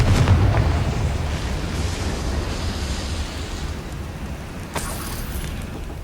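A Confringo blasting spell in Hogwarts Legacy goes off in a loud opening blast, followed by a long rumbling decay and a smaller pop near the end.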